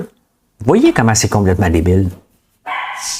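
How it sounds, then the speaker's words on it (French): A dog barks several times in quick succession under loud French talk, then a short burst of higher yips follows after a brief pause. "Ça, c'est le chien qui arrive, bien entendu."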